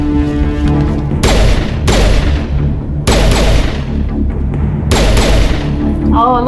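Sci-fi energy weapons from Mass Effect Legendary Edition fire in four loud, punchy bursts with booming tails over a droning ambient backdrop, each volley cutting in sharply and decaying before the next.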